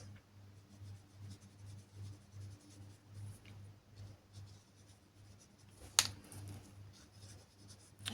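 A glitter marker draws a leaf on paper, giving faint, close scratchy strokes in a soft rhythmic pattern over a low background hum, with one sharper click near the end.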